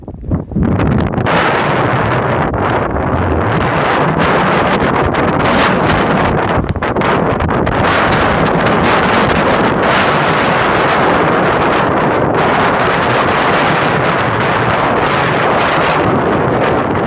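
Blizzard wind sustained near 35 to 40 mph with gusts to 55 batters the microphone in a loud, constant roaring rumble with buffeting bursts, no voices.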